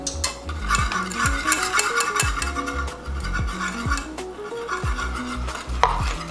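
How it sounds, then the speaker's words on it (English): Powdered sugar whisked into a honey butter glaze: rapid, rhythmic whisk strokes scraping and tapping against a bowl, repeated steadily and heard up close without speech. "So we're supposed to whisk in our powdered sugar."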